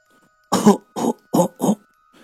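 Four harsh, heavy coughs in a close, loud burst, each a rough chesty blast separated by short pauses, with a faint breath trailing after.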